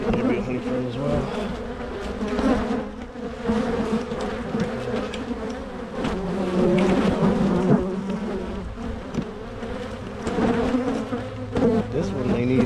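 Honeybees buzz densely and continuously during a January hive inspection, a loud, close, wavering drone from many insects around the open frames.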